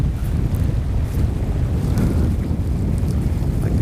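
Strong wind buffets the microphone outdoors near water during a fishing trip, a loud, steady rumbling roar with no talking.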